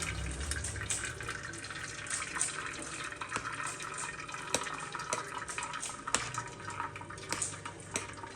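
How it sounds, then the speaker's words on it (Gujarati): Excess water from cooked rice pours and splashes through a sieve, a steady close rush of running water with scattered drips and small splashes throughout. "હવે આપણે આ વધારાનું પાણી છે રિમૂવ કરી દઈશું."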